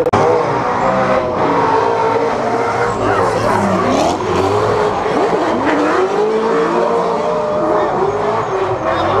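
A drift car's engine howls and revs hard through a wall ride at a drifting competition, with tyre squeal and shifting pitch, loud and near, while a commentator talks over it.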